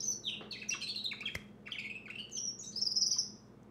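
Birds sing outdoors in quick, high chirps and short trilling phrases, fairly close but soft, repeating over a faint low background hum.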